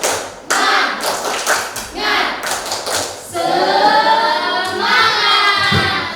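A class of students performs a rhythmic spirit clap, sharp patterned claps and taps in quick bursts followed by a loud group chant of voices, all close and energetic in a classroom.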